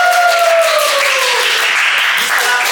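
Applause from a small group at a podcast recording, a close, bright burst of clapping that carries on steadily, with a falling tonal sound at the start.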